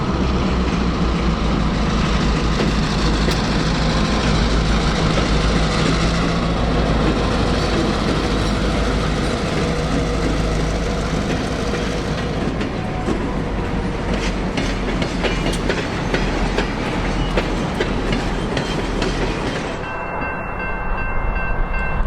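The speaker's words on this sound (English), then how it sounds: "we stuck around to watch the nightly local depart the yard bound for Eastman Chemical in Pace" A nightly local freight train pulls out of a yard bound for Eastman Chemical in Pace, Florida, giving a continuous loud rumble and rhythmic clickety-clack of wheels, with a brief horn note near the start and the noise dropping off near the end.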